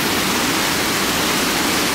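A waterfall at Cascade Falls, BC, heard as a loud, continuous rushing roar of falling water that fills the whole clip evenly and close by.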